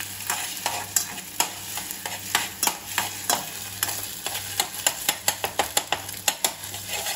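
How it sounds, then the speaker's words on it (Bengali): Egg frying in oil in a pan while being stirred and turned, with a steady sizzle under repeated sharp scraping and clinking of a utensil against the pan, loud and close throughout. "এই যে ডিম ছেড়ে দিয়েছি, এবার একটু ভালো করে নাড়াচাড়া করে ভেজে নেবো এটাকে"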